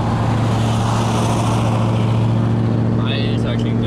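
Car engine with a steady low rumble on a city street in Stuttgart, idling or cruising nearby, loud and continuous with a brief higher whine near the end; no talk over it.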